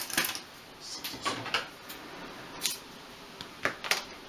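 Scissors snipping through material for a 1/12th scale miniature shop model, a handful of short crisp cuts in uneven rhythm, close and fairly quiet.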